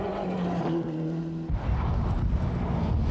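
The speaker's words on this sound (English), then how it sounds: "the 1990 champion wrestles with the Cosworth at frightening speeds" A Ford Cosworth rally car driven at high speed in the 1992 Galway International Rally, engine howling at a high pitch before a sudden change into loud, rough gravel and engine roar.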